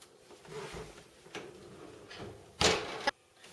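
Oven door closing on a baking sponge cake, a couple of soft clunks and handling noises, then one sharp louder thump and clack near the end, fairly quiet overall.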